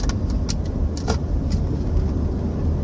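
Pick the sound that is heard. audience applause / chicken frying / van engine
van engine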